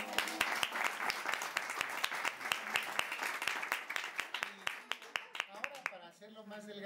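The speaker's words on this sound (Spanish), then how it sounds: "¡Aplauso!" A small group applauds during a black pottery demonstration, with sharp, distinct claps in a fairly regular rhythm lasting several seconds, close by, while a voice speaks over the end.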